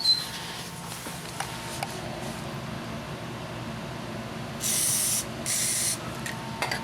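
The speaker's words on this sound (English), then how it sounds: "we'll just spray everything down with some penetrating oil" Penetrating oil sprays from an aerosol can onto the front suspension bolts of a 2002 Toyota Tacoma standard cab truck, with two short hissing bursts over quiet workshop background and a few faint clicks.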